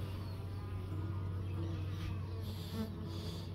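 Dense, steady buzzing of a honeybee colony in an opened hive during an apiary inspection, a continuous low drone filling the whole stretch without any talk.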